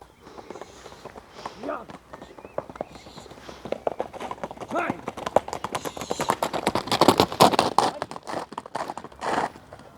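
A horse breaks into a gallop, its quick rhythmic hoofbeats thudding close and loud over trampled ground, while people talk throughout.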